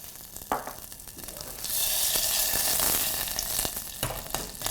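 A spoonful of butter melts and sizzles in a hot pan for a meatball sauce, a close, steady frying hiss that swells and holds loud, with a few light utensil taps.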